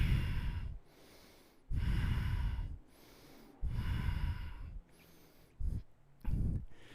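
Heavy, deliberate breaths during a core-focused fitness workout, alternating long loud bursts with quieter pauses in a slow repeating rhythm, close to the microphone and without talk.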